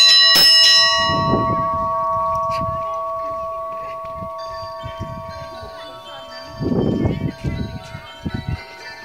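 A bell at the Lovers' Sanctuary on Mount Moiwa in Sapporo is struck, ringing out with a bright clang and then a long, sustained tone that slowly decays, while muffled footsteps and handling noises come and go beneath it.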